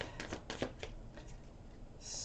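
A deck of slippery tarot cards is shuffled close up and quietly, with several quick riffling bursts followed by softer sliding and settling of the cards.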